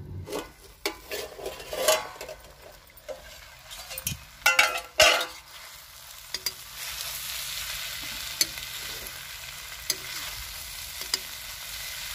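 Tinde (apple gourd) sabzi cooking in a covered pan over a low flame in a village kitchen: a soft, steady sizzle with occasional light clinks of utensils.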